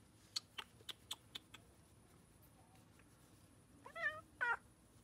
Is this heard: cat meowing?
yes